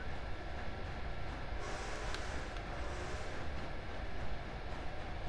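Train running in the video game Red Dead Redemption 2, a steady rumbling rail clatter that holds throughout at moderate level, with no talk over it.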